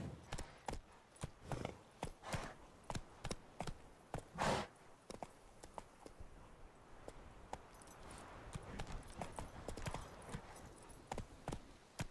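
Roach the horse in The Witcher 3 trots with steady rhythmic hoof clip-clops, close and distinct, continuing throughout over faint background ambience.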